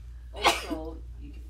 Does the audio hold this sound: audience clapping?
no